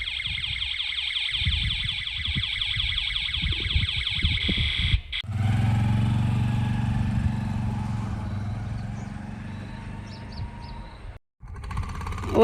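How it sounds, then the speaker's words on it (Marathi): Small auto rickshaw engine, first putting along with a rapid rattling rhythm and then a steadier, louder drone as the vehicle is driven. The sound is close and continuous, with no speech. "छान असं मस्त चालवती आहे बरं ऑटो"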